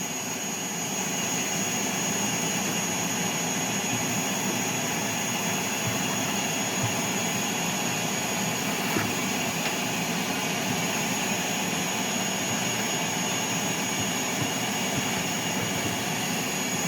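A steady, droning suction motor of a DIY bee vacuum hums continuously at an even level, loud and unchanging for the whole stretch.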